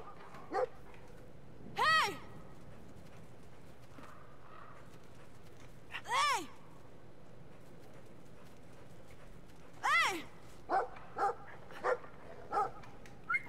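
A small dog in the video game Brothers: A Tale of Two Sons gives several sharp, whining barks, a few spread out early on and then a quicker run of short yaps near the end, all heard over a soft game ambience.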